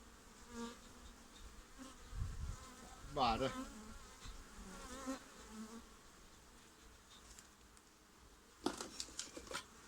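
Honeybees buzz softly around a hive, with scattered close passes and faint rustling and clicks throughout.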